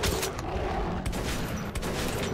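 Dense gunfire in the video game Metro 2033 Redux, with rapid overlapping shots and loud bursts packed closely through a continuous barrage and no talking.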